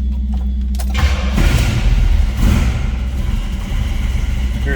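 A 1974 Pontiac Trans Am coupe engine runs steadily at idle with a couple of slight revs, a loud, close, continuous low rumble throughout with no talking.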